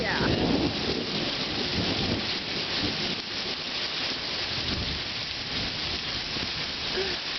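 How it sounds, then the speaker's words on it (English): Heavy rain pours steadily in a thunderstorm, a dense continuous hiss of drops drumming on surfaces around a house, with low rumbling underneath and no pauses throughout. "Oh my, the rain's getting in the house, Tom."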